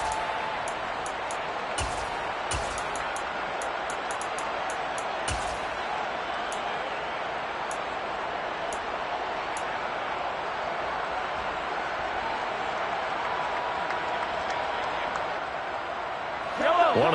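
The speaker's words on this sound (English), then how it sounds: "The crowd getting into it as we come up on a big 3rd down" A football stadium crowd roars in a steady, loud wash of cheering ahead of a big third down, with a commentator talking over it and a few sharp clicks early on.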